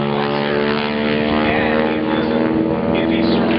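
Loud, continuous drone of a propeller-driven trainer airplane flying at an air show at Mount Pleasant Airport in Indianapolis, steady and close throughout with a dense engine hum.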